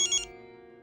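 A phone ringtone gives a short bright electronic double trill, then cuts off, leaving a sustained tonal hum underneath.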